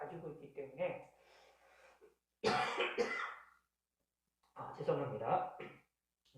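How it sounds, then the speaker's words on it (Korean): A man coughs and clears his throat in a few harsh, close bursts, with a pause between them, during a Korean online church sermon. "갑자기 기침이 나서"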